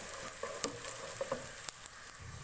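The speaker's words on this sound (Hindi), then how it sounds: "प्याज को मैं मीडियम फ्लेम पे फ्राई कर रही हूँ, ताकि हमारी प्याज जले नहीं और अच्छी गोल्डन सी फ्राई हो।" Onions frying on a medium flame give a soft, steady sizzle with faint crackles and pops, a quiet, continuous sound with no voices.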